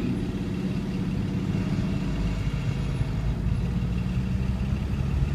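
A moving truck drones with a steady low engine rumble and road roar while heading west across the new span of the San Francisco Bay Bridge, continuous and fairly loud throughout.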